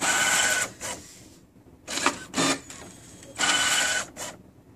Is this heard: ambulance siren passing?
no